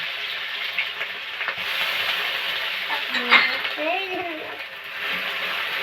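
Chili paste and garlic paste frying and being stirred in a pan for a cabbage and egg dish, a steady close sizzle with scraping stirs and a voice speaking over it.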